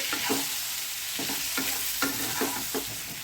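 Potatoes frying with chopped tomato, red chilli powder and salt, stirred in a pan: a constant hiss of sizzling oil broken by repeated scraping spoon strokes, close and steady, no speech.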